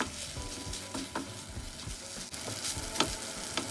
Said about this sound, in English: then pour it into the pan, immediately mixing until combined thoroughly with the rice